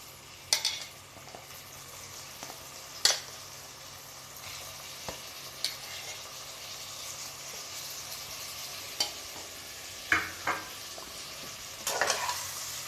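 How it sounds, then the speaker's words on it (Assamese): Ingredients for sambar fry in a pan with a soft continuous sizzle, broken by occasional sharp clinks and scrapes of stirring, fairly quiet and close with no talking. "এইখিনি মই অকণমান ফ্ৰাই হ'বলৈ দিছোঁ।"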